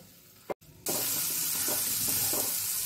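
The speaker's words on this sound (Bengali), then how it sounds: "এখন চিংড়ি মাছ বাটা দিয়ে ভালো করে মেশাবো গ্যাস কমিয়ে মশলাটা কিন্তু কষাতে হবে" Masala fries with prawn paste in a pan, a steady close sizzle with faint stirring that starts after a brief bump and continues unbroken.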